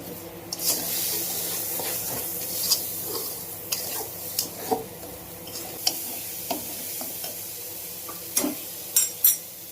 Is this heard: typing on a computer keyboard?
no